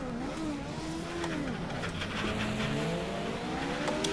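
Race cars sweep past in a VR racing sim, engines whining up and down in pitch as they approach and recede, several passes overlapping in a loud, continuous roar with brief tire noise.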